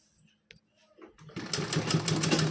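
A sewing machine starts up and runs a steady straight stitch, attaching lace to a small dress, after a few quiet clicks and handling noises, its whirring hum growing louder and continuing to the end.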